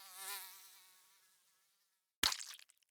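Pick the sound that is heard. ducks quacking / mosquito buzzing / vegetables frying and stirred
mosquito buzzing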